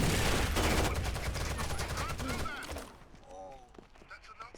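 Rapid machine gun bursts in the video game Rainbow Six Vegas 2, loud and dense for the first few seconds then thinning out, with voices and other game sounds carrying on beneath and after.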